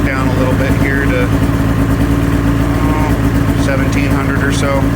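A 2005 Ski-Doo MX-Z Renegade 600 H.O. SDI snowmobile engine idles steadily at around 1700 RPM after running higher, a continuous close mechanical drone with faint talking in the background.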